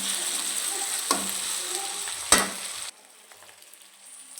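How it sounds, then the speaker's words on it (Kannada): Tomato frying in a pan for a dried fish palya, a close, steady sizzle with a couple of stirring knocks that suddenly drops to near silence partway through. "ಟೊಮೆಟೊ ಹಾಕ್ಕೊಂಡು ಚಂದ ಫ್ರೈ ಮಾಡ್ಕೊಳ್ತಾ ಇದ್ದೇನೆ"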